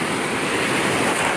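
Ocean surf breaking on a sandy beach roars loud and continuous, a close wash of churning water with wind across the microphone and no voices.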